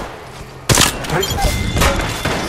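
Sustained gunfire in the Apex Legends Mobile battle-royale shooter: a loud burst opens abruptly and rolls on as rapid, dense shots with thuds layered over a steady game soundscape.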